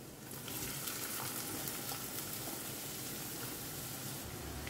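Two chopped onions frying in a pan for a prawn sukka, giving a steady, close, even sizzle that runs unbroken from start to end with no voices over it.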